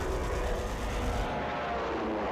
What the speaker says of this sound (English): Another plane comes in.